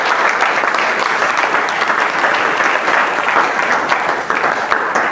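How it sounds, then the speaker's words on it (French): A church congregation applauds loudly and steadily, a dense wash of many hands clapping that holds at full strength for several seconds. "Acclamons très fort le Seigneur."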